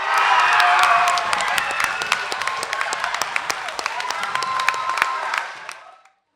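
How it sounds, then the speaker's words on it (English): A school house quiz audience claps and cheers for Housman Hall, a dense burst of applause with some whoops that thins into scattered claps and fades out near the end. "Another round of applause, please, for Housman Hall"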